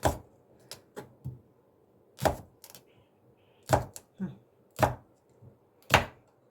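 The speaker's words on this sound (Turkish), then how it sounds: "Salatalıklarımı da doğrayayım hemen." Sharp knife chops firm cucumbers on a cutting board, irregular single and double strikes with short pauses, close and fairly quiet, no talking.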